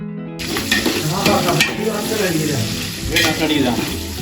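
Onions sautéing in ghee for biryani, a steady sizzle with scraping stirs and clinks of a spoon against the pan, loud and close throughout, with no talking.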